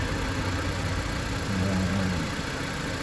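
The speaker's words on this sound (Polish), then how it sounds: "Motor tutaj chodzi jak zegarek po prostu" Jeep Patriot engine idling smoothly and steadily, a continuous low mechanical hum that stays even throughout with no talk over it.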